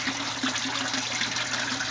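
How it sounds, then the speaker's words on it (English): An aquaponics bell siphon drains water from a grow bed in a steady, close gurgling rush, continuous and fairly loud, with no voices. "this one right here is siphoning out right now."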